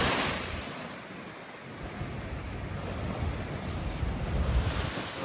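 Big ocean waves break onto the shore beside a go-kart track, making a loud, continuous roar of surf with heavy wind buffeting the microphone. The wash swells toward the end, and no one speaks.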